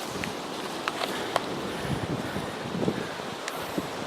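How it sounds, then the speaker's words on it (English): Strong wind buffets the microphone near a large natural stone outdoors, a continuous broadband roar with occasional faint rustles and no speech. "There's a lot of wind."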